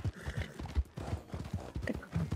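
Horse hooves clip-clop in Red Dead Redemption 2 with a steady, fairly close trotting rhythm of dull thuds that runs throughout at moderate loudness, with no talk over it.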